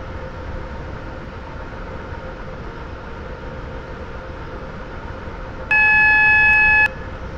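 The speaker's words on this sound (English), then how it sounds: "Train now approaching platform 1. Does not stop here." In a Roblox game, a non-stopping train passes a station platform with a steady low rumble and hiss, while a clear electronic chime tone sounds near the end.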